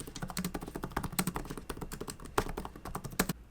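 Fast, steady typing on the shallow-travel keyboard of a Lenovo Yoga Slim 7i Carbon laptop, dense close clicks and taps in quick irregular rhythm, quiet and without speech.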